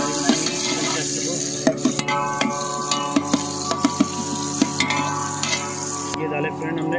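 Chopped onions sizzling in hot oil in a pan for a chicken chest dry dish, a steady close frying hiss broken by repeated sharp clinks of a spoon stirring against the pan.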